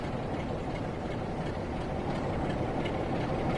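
A train standing at a station in Train Sim World 3, heavy freight pack, giving a steady low engine rumble and idling drone that runs unbroken throughout.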